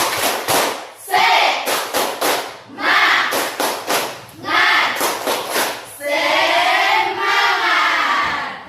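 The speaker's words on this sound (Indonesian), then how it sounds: "mari kita tepuk semangat" A class of schoolchildren performs the rhythmic 'tepuk semangat' spirit clap in a classroom, with loud bursts of sharp unison claps in patterned groups alternating with shouted group chanting, ending on a long sustained collective cheer.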